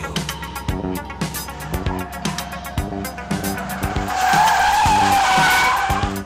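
Car tires skid and squeal loudly over a driving rhythmic beat, the screech swelling strong and sustained in the second half.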